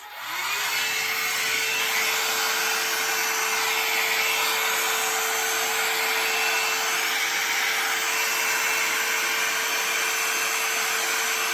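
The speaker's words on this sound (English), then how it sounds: "I'm going to take my heat gun and I'm going to heat the resin a little bit and move it around on the canvas" A heat gun softens resin on an 18 x 24 inch birch wood painting panel, making a loud, constant close-up whoosh with a steady whine that runs without a break.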